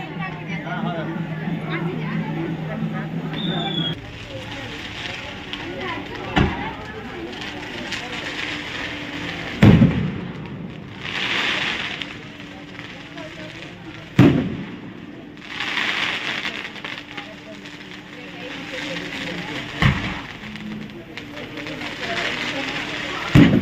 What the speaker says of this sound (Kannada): ಈ ಪಟಾಕಿ ಸೌಂಡ್ ಯಾವುದು ಆ ಕಡೆ ಬಿಡುತ್ತಿದೆ